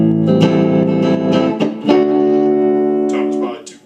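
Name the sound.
Carvin DC135 electric guitar clean tone, neck and middle pickups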